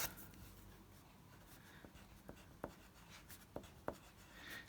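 A bright pink Scribble Stick writes on vellum, giving faint close scratching strokes with several sharp taps of the tip across the surface, heard alone in a quiet room.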